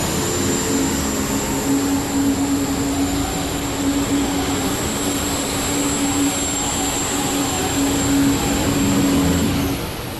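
A loud, continuous International pulling tractor engine roars down a track at a farm machinery show, holding steady for several seconds with a sustained droning tone, fading slightly at the very end.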